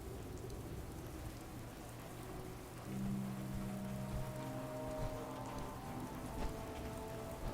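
Rain falling in Fallout 4, a steady, soft hiss of drops on surfaces throughout, with a low droning tone entering partway and lingering beneath the downpour.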